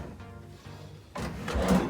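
A cabinet drawer in a beachfront resort room slides open or shut once, a short, close wooden scrape and bump after a moment of quiet room tone.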